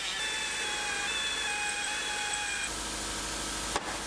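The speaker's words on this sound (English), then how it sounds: "drill out the other ones that can go all the way through." A power drill bores out spot welds on car body panels, a steady high whine with shifting tones that cuts off abruptly midway, followed by a brief knock.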